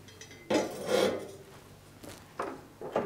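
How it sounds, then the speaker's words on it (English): Cast iron griddles lifted off the hob of a gas cooker, a few separate clanks and scrapes of metal on metal spaced out over a few seconds, fairly close and with no talk. "you need to remove the griddles off the cooker and put them into a safe place"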